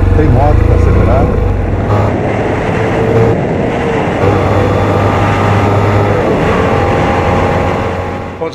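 A 2018 BMW F 800 GT motorcycle cruises on a motorway with a loud, steady engine drone mixed with heavy wind rush throughout, close to the rider.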